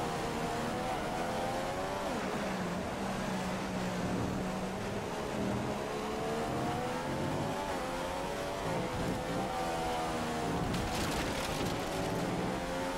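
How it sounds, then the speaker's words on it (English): A Formula 1 race car engine in the video game F1 2015, at the Spanish Grand Prix, drones and revs continuously, pitch rising and falling through gear changes, steady and loud with no talking. "Have a listen to the engine to see if something happened there."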